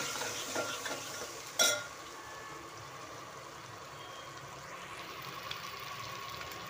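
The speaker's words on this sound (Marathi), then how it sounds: "इकडे ही फोडणी द्यायचं काम चाललेलं आहे. कढीपत्ता, लसूण, जिरी, मोहरी टाकलेली आहे." Faint sizzling as curry leaves, garlic, cumin and mustard seeds temper in hot oil in a home kitchen, a low steady crackle with one sharp utensil clink near the start and no talking.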